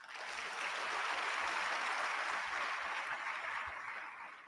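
Audience at a ceremony inducting newly qualified medical and dental practitioners giving a round of applause that swells, holds steady, and tapers off, a broad even clatter of many hands.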